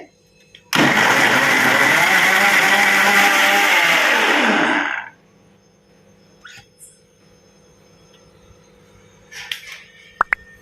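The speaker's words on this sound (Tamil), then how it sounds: "இப்போ நம்ம மிக்ஸியை ஓட விடலாங்க" A mixer grinder blending cream and ice water whirs loudly and steadily for about four seconds, then winds down, leaving quiet room noise and a few faint clinks.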